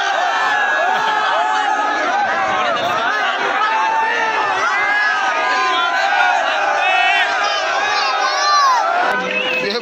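Dense crowd noise at a Dussehra fair during Ravan Dahan, with a steady roar of many voices, shouts and chatter, loud and continuous throughout.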